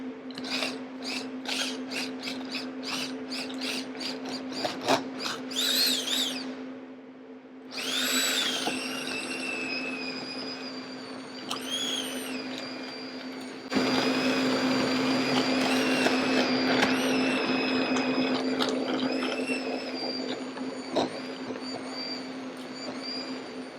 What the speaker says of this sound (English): I'm going to give it a quick blitz with my hand blender here.